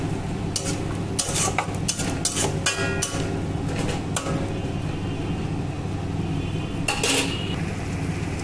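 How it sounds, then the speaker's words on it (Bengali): Tomato paste is stir-fried in a pan for katla kalia, with a steady sizzle under repeated sharp clanks and scrapes of a spatula against the metal, bunched at the start and again near the end. "টমেটোর পেস্টটা দিয়ে এবার ভালো করে আবার কষিয়ে নেব যতক্ষণ না তেল ছাড়ছে"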